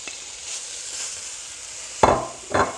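Marinated pork being mixed with spring onions makes a soft, faint background hiss, then two short, louder wet stirring scrapes near the end.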